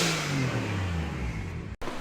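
A car with a mostly stock 1JZ engine and blow-off valves runs steadily with a rough low rumble and rising rev, loud and close, cut by a brief dropout near the end.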